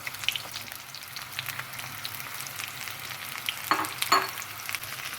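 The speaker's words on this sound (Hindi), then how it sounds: "ऑयल गरम हो गया है, अब हम इसमें प्याज डाल दें।" Onions frying in hot oil for a chicken biryani give a steady, fairly quiet sizzle with a few brief louder crackles near the end, and no voices.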